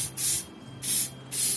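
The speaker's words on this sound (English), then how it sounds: "Now, if you want to preserve it, you can spray some sort of sealant on it." Three short bursts of aerosol spray hiss as a clear sealant coat is sprayed over paint, each about a third of a second, separated by brief pauses, close and fairly loud.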